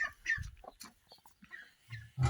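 A broody black hen sitting on eggs murmurs soft, low clucks and purring chatter close by, in short irregular bursts.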